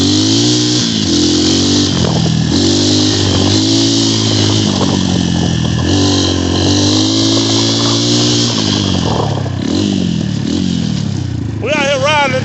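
XMOTOS dirt bike engine revving continuously up and down while the rider spins donuts, close and loud, with a voice shouting briefly near the end.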